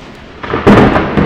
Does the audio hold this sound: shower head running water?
no